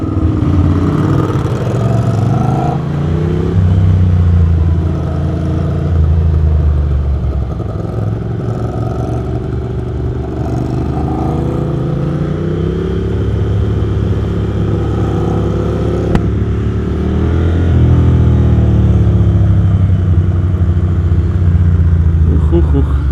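A motorcycle engine roars and growls steadily throughout, loud and close during a night ride, with its pitch rising and falling as the throttle changes, while someone talks over it.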